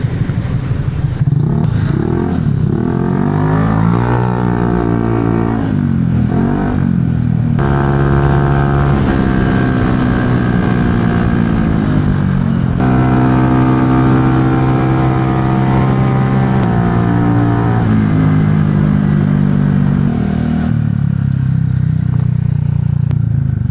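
Motorcycle engine fitted with an aftermarket silencer riding through city traffic, a loud close exhaust drone whose pitch rises and falls with repeated throttle changes and shifts throughout, with no voices.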